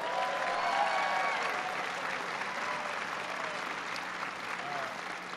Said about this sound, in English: I want to give him a big round of applause for that introduction